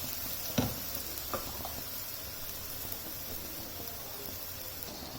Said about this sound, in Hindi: अब इसको हम अच्छा भुनने तक पकाएंगे और इसमें हम मसाले डालेंगे।